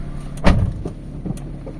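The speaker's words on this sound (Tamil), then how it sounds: "கதவு சாத்துங்க மேடம் சீக்கிரம்." A car door slams shut with one firm, close thud, followed by softer knocks and cabin rustling inside the vehicle, with no talking.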